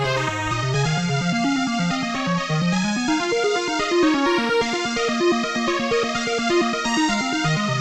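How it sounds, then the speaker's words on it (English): Bright, buzzy Atari 2600-style chiptune melody of Castlevania with stepping square-wave notes and a bouncing bass line, playing continuously without any voices. "So this is with the Atari 2600."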